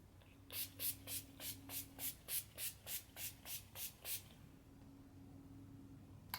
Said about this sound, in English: set my face with this new NYX Radiant Finish Long Lasting Setting Spray. And we'll see. So, spray it first.